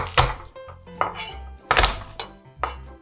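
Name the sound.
pressing whole garlic cloves so they split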